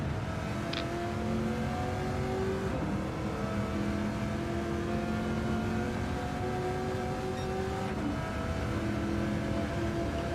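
A V8 Supercar engine roars at full throttle in a racing video game on the Deep Forest track, a steady loud drone with rising gear-change pitch sweeps and brief shifts, with no voices.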